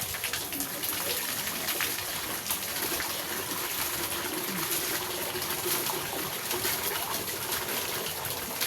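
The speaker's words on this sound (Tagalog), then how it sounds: "Ayan, sasalinan ko ng tubig" Water poured for laundry outdoors, a steady continuous splashing gush with a faint bird calling in the background.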